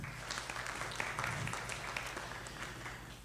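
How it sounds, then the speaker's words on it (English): Fairly faint, steady clapping from an audience at a regional church conference, a low hum running underneath throughout. "Let's clap for her, please."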